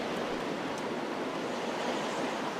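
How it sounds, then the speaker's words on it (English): Steady broadband rush of water flowing beneath a rock in The Legend of Zelda: The Wind Waker HD, a continuous even wash with no breaks, fairly quiet and heard alone. "I can hear like a water flowing under it"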